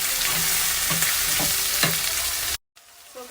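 Spinach sizzles and fries in a hot pan while being stirred, a continuous crackling hiss with a few soft scraping strokes, close and fairly loud, cutting off abruptly near the end.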